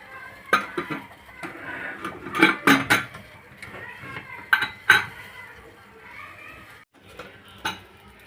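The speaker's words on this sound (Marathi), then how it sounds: "आणि कुकरला झाकण लावून एक किंवा दोन शिट्टी देणार आहे" A steel pressure cooker lid is handled and fitted, giving several loud metallic clanks and clinks in irregular bursts, with quieter rattling between them.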